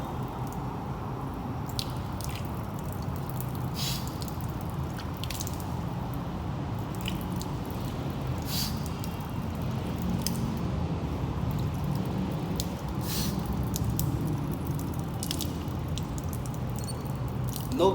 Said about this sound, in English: I moved the water around in my mouth